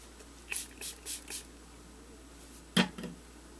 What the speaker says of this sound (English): and then spray it up